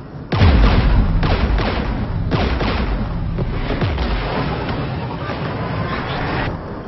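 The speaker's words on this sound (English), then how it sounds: "We're taking fire." Gunfire echoes through a firefight in Mass Effect 3, with repeated loud bursts and booms over several seconds under a dense layer of battle noise.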